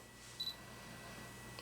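Autofocus motor of a Sigma 17-35mm lens on a single-lens reflex camera gives a brief, faint whirring tick as the shutter button is half-pressed in a quiet room, with a second small click near the end.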